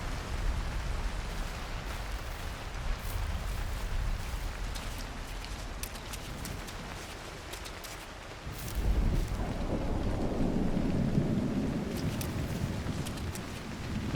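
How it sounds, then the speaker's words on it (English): Thunderstorm in the video game Cairn, steady heavy rain hissing throughout with a deep rumble of thunder swelling in the second half, no voices. "The sound effects of the storms are so insane."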